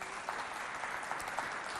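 Faint, distant audience applause at a festival show in Chad, a steady even patter of many hands with a few sharper claps standing out.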